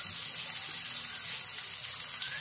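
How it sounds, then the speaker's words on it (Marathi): Stuffed bitter gourds (karela) frying in hot oil give off a steady, soft sizzle with a faint watery hiss, continuous and unbroken, with no voices. "आपण कारले सोडून घेऊयात तेलामध्ये"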